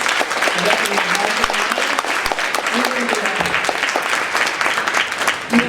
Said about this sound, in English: So I want to give them a round of applause